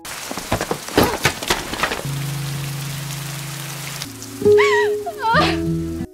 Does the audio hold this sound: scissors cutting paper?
no